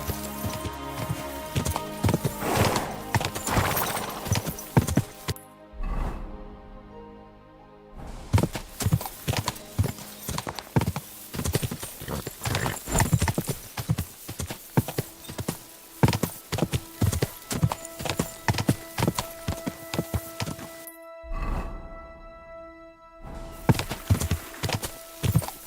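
Rhythmic hoofbeats of a galloping horse in the video game Kingdom Come: Deliverance II clatter steadily, close and loud, with brief pauses before the galloping resumes; a horse whinnies faintly along the way.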